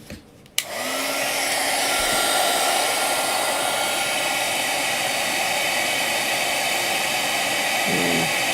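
A heat gun switches on with a click and blows a loud, steady, close roar while melting embossing powder for mixed media ephemera, running continuously without talking.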